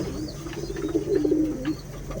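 A male high-flyer pigeon gives a soft, low rolling coo close by, a single drawn-out phrase over a quiet background with faint distant chirps.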